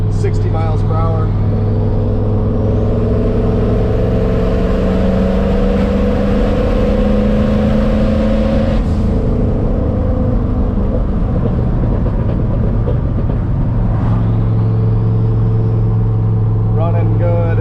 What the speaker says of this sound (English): I'm in third gear, doing about 60 miles per hour.